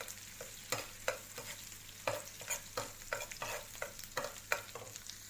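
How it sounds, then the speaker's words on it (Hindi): Ginger garlic paste sautés in oil and butter on a flat tawa for street-style Mumbai tawa pulao, with repeated scraping stirs over a steady low sizzle, close and clear with no voices. "पेस्ट को हम थोड़ा सा सौते कर लेते हैं।"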